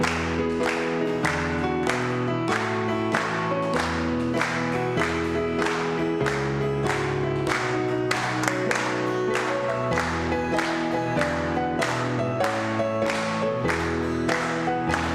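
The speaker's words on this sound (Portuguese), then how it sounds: "Vamos ver as palmas." A congregation at a church service claps steadily in time with lively music and group singing, the rhythmic claps running evenly throughout.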